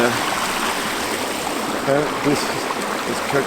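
A creek in British Columbia runs steadily, a close, broadband rush of flowing water with no pauses, loud and continuous throughout.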